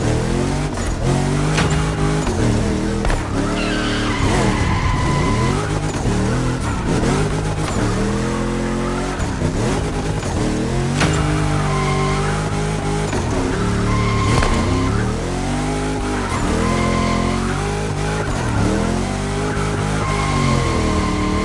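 A Toyota GR Supra drifts hard in The Crew Motorfest, its engine revving and rising and falling in pitch while the tires squeal and skid almost without pause. The sound stays loud and close through a long continuous run, with no voices.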